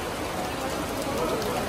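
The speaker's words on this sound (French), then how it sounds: "on ne serait pas en Belgique sans une bonne petite pluie" Steady, dense hiss of rain pattering on a shelter overhead in Bruges, Belgium, continuous and even throughout, with no distinct voices.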